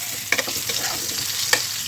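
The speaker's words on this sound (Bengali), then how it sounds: "হাই ফ্লেমে ভাজবো আলুগুলো লাল লাল করে ভাজা কমপ্লিট হয়ে গিয়েছে" Potatoes fry on a high flame for mutton curry with a constant crackling sizzle, broken by two sharp utensil knocks against the pan.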